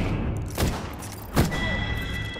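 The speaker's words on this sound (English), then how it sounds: "Darn, shots fired and they're hitting me." Two sharp gunshots in Apex Legends, roughly a second apart, ring out over steady game background noise, with no talk.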